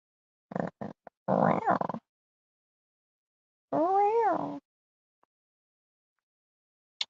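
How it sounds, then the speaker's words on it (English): Cats in a shower giving short grunting calls followed by a longer wavering meow, sporadic and close with silent gaps between. "kitty gang in the shower"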